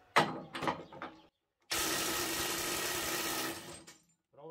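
DeWalt DCF850 cordless impact driver loosening a screw, a loud continuous mechanical whirr lasting about two seconds right after someone speaks briefly, then stopping abruptly.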